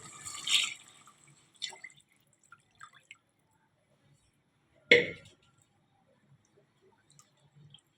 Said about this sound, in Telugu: సో ఎసర పోసేసుకుంటున్నామండి